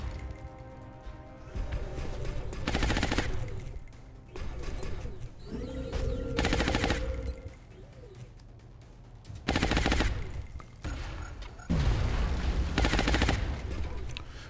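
Bursts of gunfire from the XCOM Long War strategy game, several loud rapid volleys separated by pauses, played over background game sounds.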